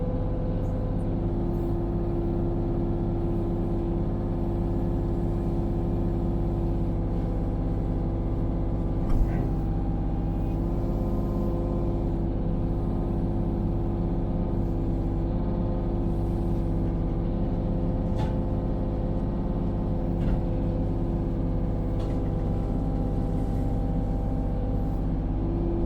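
Steady drone of a mini excavator running a spooled-up brush cutter attachment, a continuous low engine and hydraulic hum with faint mechanical rattle, loud and close throughout with no talk.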